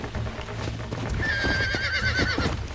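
A blood bay horse in the Red Dead Redemption video game whinnies in a long wavering neigh, with steady clip-clop hoofbeats underneath, close and fairly loud.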